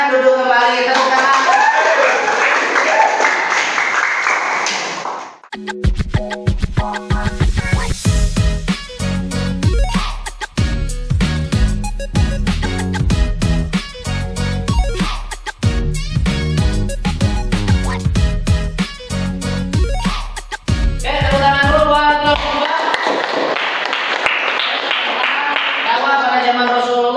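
A classroom audience of students applauds, dense clapping that swells and fades between stretches of a teacher speaking in Indonesian before and after.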